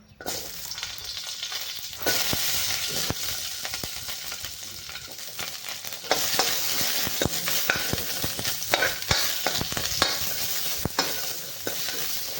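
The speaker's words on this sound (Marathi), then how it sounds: "आता थोडंसं तेल टाकून आपण त्या हिरव्या मिरच्या भाजून घेणार आहे" Green chillies roast in oil in a pan, making a steady, close sizzle with frequent scraping stir strokes and clicks throughout, and no one speaks.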